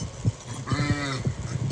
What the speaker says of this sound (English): The sheep kind of look like they're pregnant to me.